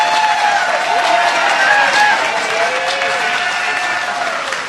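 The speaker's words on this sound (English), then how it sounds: "let's give another applause to Colonel Taylor" A crowd at a 2012 Joe Biden campaign rally in Chesterfield, Virginia claps and cheers loudly in a dense, continuous roar, with a voice faintly heard under the applause.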